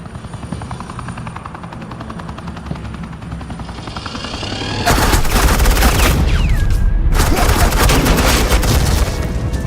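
Heavy suppressing gunfire in Batman: The Enemy Within erupts loudly over a droning helicopter, sustained rapid bursts that cut out briefly then resume.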